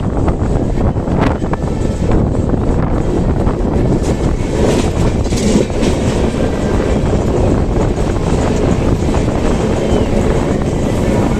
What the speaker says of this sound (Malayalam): നല്ല കാറ്റാണ് നല്ല കാറ്റ്